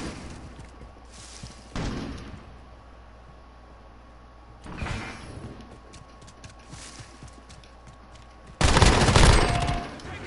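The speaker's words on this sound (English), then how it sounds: "I'm gonna move in with the machine gun" Machine gun fire in a Modern Warfare 2v2 match, in three separate bursts, the last and loudest around the end, with quieter game ambience between them.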